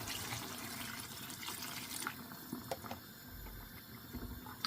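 Water pours into a bottle gourd and meat curry with potatoes, a steady close rushing splash that continues under a bubbling simmer, with a few clinks of cookware.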